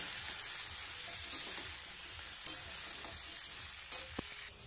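Small mourala fish with ridge gourd and snake gourd frying in a pan, a soft steady sizzle with a few sharp scrapes and clinks of the spatula, fairly quiet and close.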